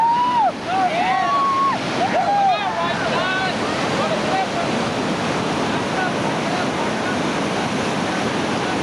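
Rushing whitewater of the Lower New River rapids in West Virginia roars steadily throughout, a dense wash of churning reactionary waves, with a few brief shouts and whistles near the start.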